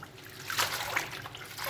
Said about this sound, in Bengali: সন্দেহ দূর করার জন্য আমি আবার 2-3 বার ধুয়ে নিই